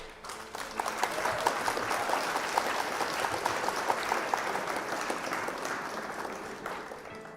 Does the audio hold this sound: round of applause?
yes